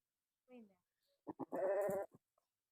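Sheep being given medicine let out a short, close bleat in a quiet setting, preceded by a few faint soft calls.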